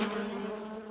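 A swarm of hornets buzzes in a Family Guy cartoon, a steady droning hum that starts loudest and holds close and even for under a second, with no talking.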